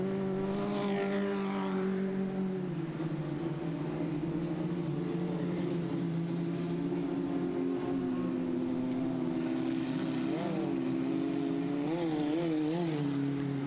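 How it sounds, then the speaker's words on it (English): Race cars roar around a dirt oval at Southern Ontario Motor Speedway, engines droning continuously with shifting pitch as they pass, steady and loud with no talk over them. "Sounds like some issues there as the J2 car comes across the line"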